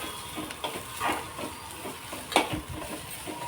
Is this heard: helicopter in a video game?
no